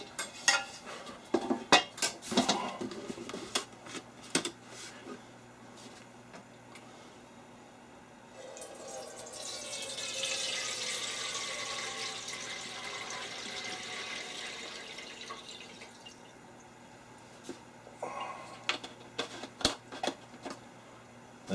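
Evapo-Rust rust remover liquid poured into a container for restoring a vintage Champion weight set, a steady sloshing pour of several seconds between clinks and knocks of metal pieces and dishware, fairly quiet and close.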